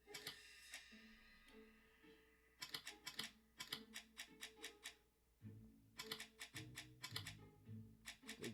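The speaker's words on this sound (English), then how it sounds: "It's definitely the fucking typewriters." Clacking typewriter keys sound in quick clusters and irregular bursts, crisp and fairly faint, with soft background musical tones during a murder-mystery game.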